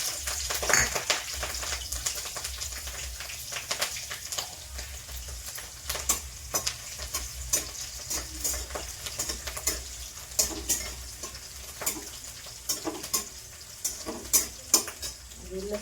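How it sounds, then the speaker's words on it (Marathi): Chillies sizzle and crackle in hot oil in a kadhai, with sharp pops and spatters over a steady frying hiss, plus occasional scraping of a spoon against the pan, close and without talk. "इथं तेल पण होतलंय मी कढईत आधी पहिल्यांदा मिरच्या टाकून घेतो"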